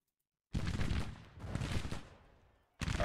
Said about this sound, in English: Artillery is firing.